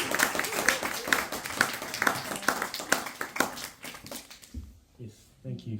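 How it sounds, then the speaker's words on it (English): An audience claps at a book Q&A event, with a spell of light applause that dies away into people talking. "I think Michelle deserves a round of applause"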